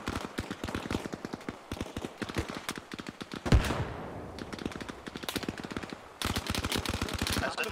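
Rapid automatic gunfire from an Arma Reforger battle in a tree line and clearing, dense repeated bursts with a heavy blast near the middle, a brief lull, then sustained firing resuming loudly.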